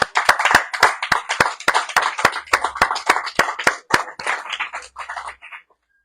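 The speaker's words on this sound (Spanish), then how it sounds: "Vamos a darle un aplauso, Señor." A church congregation at a prayer house service in Cuernavaca claps in a steady, rhythmic beat of many hands together, loud and close, before the clapping thins out and stops near the end.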